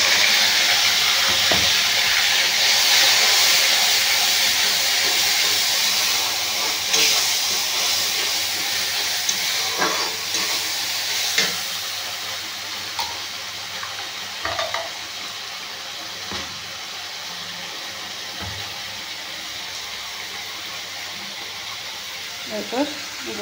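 A paste of green chili, ginger, mustard and cumin sizzles in hot oil with a steady loud hiss that gradually eases, while a spoon scrapes and taps the pan now and then.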